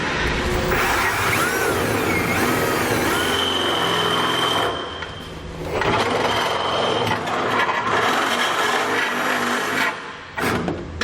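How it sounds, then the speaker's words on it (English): Close, loud whine of a power drill with a 1/2 inch bit boring through a steel hitch, with a grinding, squealing edge, pausing briefly midway and then resuming. "So I'm going to use a 1/2 inch bit to drill those out."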